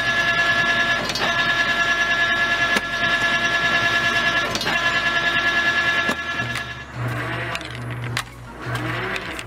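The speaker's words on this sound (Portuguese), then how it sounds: "O mais moderno equipamento para a produção de molas garantem os desenvolvedores desta máquina de" A six-axis spring production machine runs with a steady dense mechanical whir and rapid ticking, broken by sharp periodic clacks, then shifts to a lower hum with intermittent bursts of motion toward the end.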